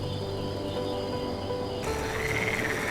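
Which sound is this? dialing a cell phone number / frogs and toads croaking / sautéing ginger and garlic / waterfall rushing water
frogs and toads croaking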